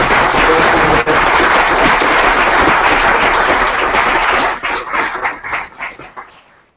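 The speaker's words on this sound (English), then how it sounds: "Big round of applause" Conference audience at a climate change event gives a big round of applause, dense and loud clapping that holds steady, then thins into scattered individual claps before fading out.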